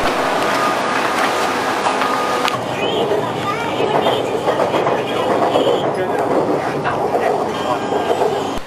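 Ride aboard a Bangkok metro train, with a steady rumble of wheels and rail noise filling the carriage throughout and faint voices mixed in underneath.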